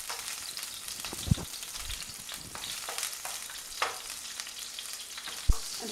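Onion pieces frying in a hot pan for a chicken dish, giving a steady soft sizzle with a few sharp clicks and knocks of a utensil against the pan, close and moderately quiet, with no talking.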